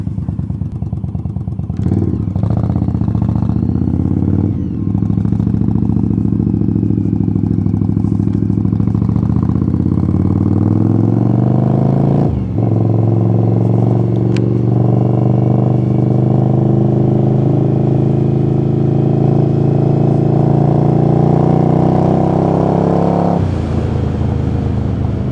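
An Indian Scout Bobber with Vance & Hines High Output Grenades exhaust rides along smooth tarmac, its V-twin droning loud and close with rising and falling revs through gear changes, alone without talk.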